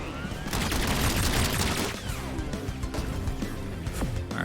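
Rapid ranged pistol fire in the roguelite shooter Battle Shapers, a dense stream of sharp shots mixed with game effects and sweeping electronic tones, loud and continuous.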